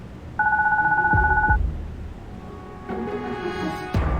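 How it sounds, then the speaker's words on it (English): A phone rings in the video game Goodbye Deponia, with two steady electronic ring bursts back to back, followed by quieter game ambience and a faint tone. "Oh, my baby phone's ringing."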